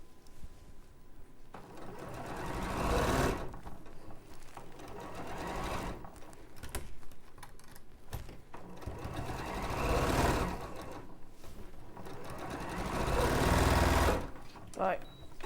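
A sewing machine stitching cushion pieces together in a few bursts of steady mechanical whirring, close up and at moderate level, with a voice talking over and between the runs.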